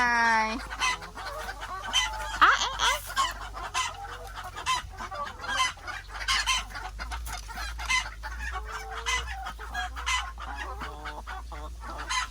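Chickens at a rural farm stay cluck and squawk continuously and fairly close, with other fowl calling among them, while people talk now and then.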